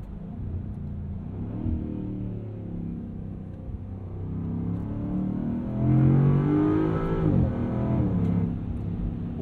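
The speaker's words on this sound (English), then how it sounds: "Lightning fast gear changes from this 8-speed transmission." A 2022 Land Rover Defender 90 V8 accelerates in dynamic mode, its engine rumbling and rising in pitch through quick 8-speed gear changes, a steady moderate drone heard from inside the cabin.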